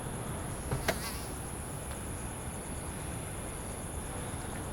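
Steady high-pitched insect whine hangs over a constant outdoor hiss, like mosquitoes buzzing close by, with a couple of faint clicks and no voices.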